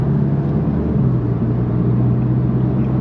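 A Volkswagen MK8 Golf GTI pulls strongly while driving, a steady, loud engine hum and road rumble from inside the cabin with a low tone that rises slightly as it gains speed.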